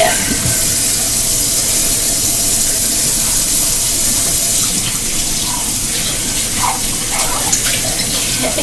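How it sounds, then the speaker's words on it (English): Tap water gushes steadily into a kitchen sink filling with dishwater, a loud continuous close hiss and splash with no talk. "Fresh dishwater, y'all."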